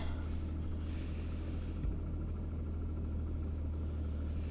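A low, steady engine rumble from a Nissan Stagea idling roughly, heard from close by with a broad hiss over it and no voices.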